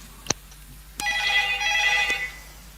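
Telephone ringing in an office: a sharp click, then one bright electronic ring lasting about a second, close and clear over a quiet background.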